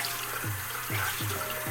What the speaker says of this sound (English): I'm gonna wash it with some warm water